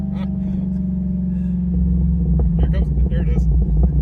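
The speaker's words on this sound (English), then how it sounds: "Listen to the blower." A supercharger blower whines over the rumbling engine of a convertible car, a steady mechanical drone that swells as the engine note rises, heard close and loud with no talk.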